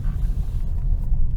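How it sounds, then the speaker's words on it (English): A 2025 Honda Civic Hybrid Hatchback swings through a U-turn, its low, steady road rumble and engine drone filling the cabin with a constant, fairly loud hum and no voices. "let's do this U-turn"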